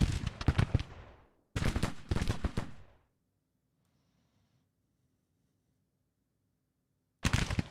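Civil War musket volleys crackle at skirmishers in Grand Tactician: The Civil War near Baltimore. Three loud, dense bursts of rapid gunfire are followed by several seconds of near silence before another volley starts.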